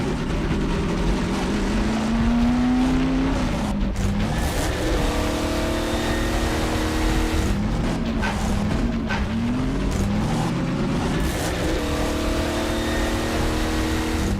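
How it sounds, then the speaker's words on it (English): A car in a video game drives with a high-pitched supercharger whine riding over the engine, rising and falling in pitch through shifts and acceleration, steady and continuous with no talk. "you can hear a supercharger sound effect play. That whining, that high-pitched whining in the background"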